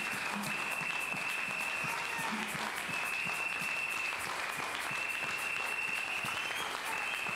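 A church congregation claps for Jesus Christ during a sermon by Prophetess JR Deborah One. The applause is continuous and evenly loud, with a faint high ringing tone running under it throughout.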